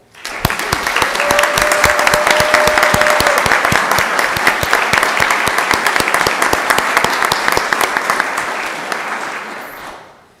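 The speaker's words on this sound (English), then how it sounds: "And if you will, help me applaud her." Audience at a GPISD school board of trustees meeting applauding Sonia, crisp individual claps building quickly into steady sustained clapping that fades out near the end.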